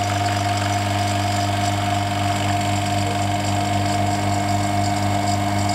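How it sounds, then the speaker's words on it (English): A vacuum pump runs on a vacuum chamber holding shaving foam, giving a loud, constant mechanical drone with a steady low hum and no break. "Let's turn on the pump again."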